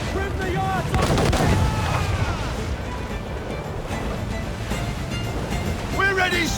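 Ship cannons fire in bursts over rolling ocean waves in Assassin's Creed IV Black Flag, heavy booms layered with surf and crew shouting throughout.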